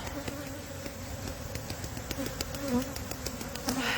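Honey bees buzz steadily around an opened brood box at the hive, a dense close drone with faint knocks and clicks of hive work, no voices.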